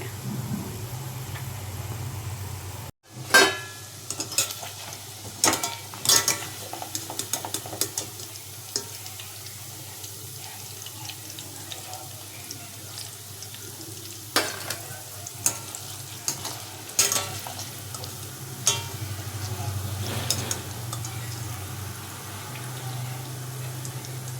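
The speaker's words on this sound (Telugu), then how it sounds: "ఇలా పన్నీరు బ్రౌన్ కలర్లో వచ్చే వరకు వేయించుకోవాలి" Paneer frying in a pan until browned, with a soft continuous sizzle broken by scattered sharp clinks and scraping stirs, and no talking.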